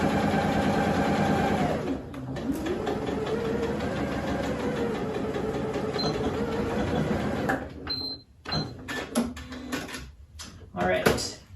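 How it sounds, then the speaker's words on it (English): Sewing machine stitching straight across a fabric seam, running steadily and loud for about eight seconds, then stopping and starting in short bursts. "we're just sewing across here"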